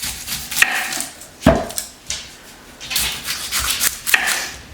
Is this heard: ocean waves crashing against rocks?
no